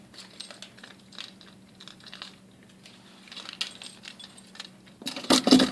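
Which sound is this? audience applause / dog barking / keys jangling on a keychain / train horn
keys jangling on a keychain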